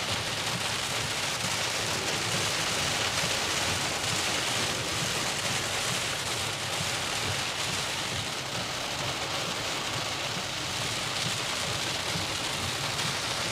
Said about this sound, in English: Rain is ramping up here.